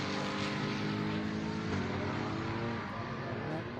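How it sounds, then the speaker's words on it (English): Race cars pull out of the pits at Snetterton during a British Endurance Championship round, producing a steady, loud engine drone with layered tonal whine and continuous background roar, without talk. "A couple of cars leaving the pits in the background."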